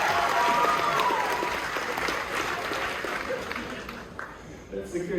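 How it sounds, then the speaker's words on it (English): Audience applause for a magician's show aboard a Royal Caribbean ship fills the room as a dense, steady clatter of many hands that slowly thins out, with voices mixed in. "Give these guys a round of applause"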